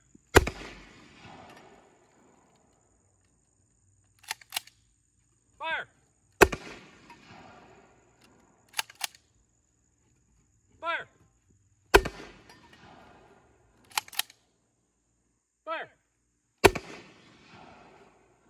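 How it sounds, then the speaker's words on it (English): A homemade can mortar fires Diet Pepsi cans outdoors in a series of sharp, loud pops spaced a few seconds apart, with people shouting between the shots. "Five rounds, Diet Pepsi, fire for effect."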